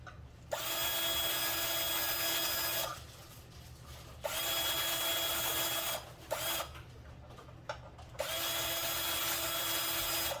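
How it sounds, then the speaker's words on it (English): A power drill whirs in three long bursts separated by pauses, with a couple of quick short spins in between, close by, as the bit is wiggled to widen holes in a Hangar 9 Carbon Cub model airplane. "I'm just wiggling and rolling my drill bit around a teeny bit to open these holes up."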